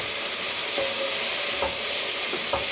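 Onion and cabbage sauté in a pan with a steady, soft sizzle throughout and a few faint stirring scrapes, close by with no voices.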